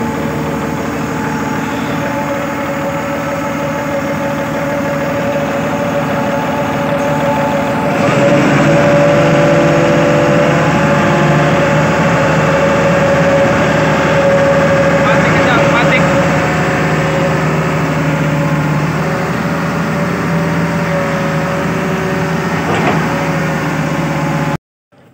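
Hitachi Zaxis 200 excavator engine running, first a steady idle and then a jump to a louder, busier drone that holds for some twenty seconds, with people talking over it throughout.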